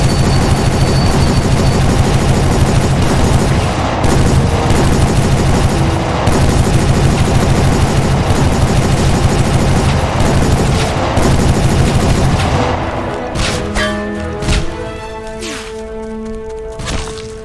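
Turret gunfire in a History Channel first-person shooter video game, loud, dense machine-gun bursts with booming impacts filling most of the stretch, then thinning out toward the end.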